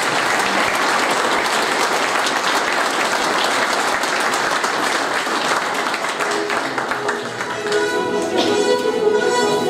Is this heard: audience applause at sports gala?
yes